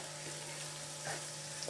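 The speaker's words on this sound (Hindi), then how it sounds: "अब मैं इसमें डालूँगी ऑयल" Stuffed bitter gourds sizzle steadily in a pot as cooking oil is poured over them, giving a close, continuous frying hiss with small crackles and a faint steady hum underneath.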